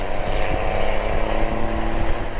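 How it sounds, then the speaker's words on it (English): A jet ski passing on open water, its engine a steady, loud motor drone with no breaks throughout. "Jet skis are basically water motorcycles."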